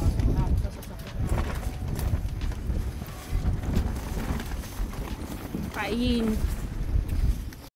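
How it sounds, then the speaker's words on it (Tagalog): Strong wind at a car-camping spot in Benguet roars steadily into the microphone while people talk over it. "Sobrang lakas ng hangin."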